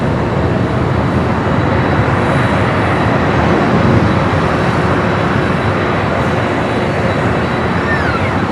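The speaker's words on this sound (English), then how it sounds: "It's flight 88 coming in from Hong Kong, this A350-900." An Airbus A350-900 arriving from Hong Kong at LAX produces a loud, steady jet rumble with a faint high whine, heard alone.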